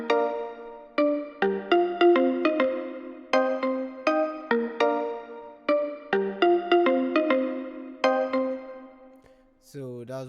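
Processed marimba line for a song, with lows boosted and highs cut: a steady syncopated pattern of warm, ringing mallet notes with sustained decay, looping for about ten seconds before a short voice enters at the end.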